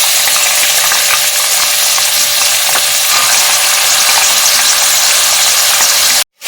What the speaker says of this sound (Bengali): এবার আমি এই তেলের মধ্যে পেঁয়াজ কুচিগুলো সব দিয়ে দেব।